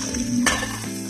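Squash pieces dropped into a pan of sizzling garlic, a steady frying hiss with a brief stirring clatter in the middle.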